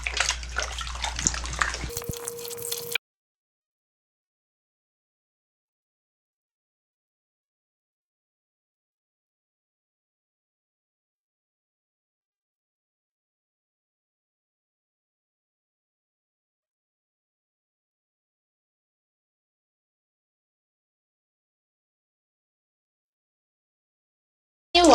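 A waist trainer being washed by hand is moved through water, making a few seconds of close sloshing and splashing before the sound stops and long silence follows.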